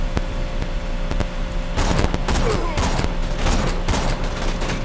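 Gunfire in Borderlands 2 during the Captain Flynt fight: a few isolated shots, then dense bursts of rapid fire and impacts, loud and close, with a voice talking over parts of it.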